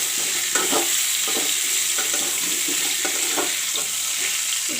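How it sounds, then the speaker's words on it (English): Panch phoron spices being stirred into pumpkin pieces in a hot pan, with steady loud frying sizzle and repeated scraping strokes of a spoon recurring every half second or so. "I put in the pachforan. Now I will mix it this way."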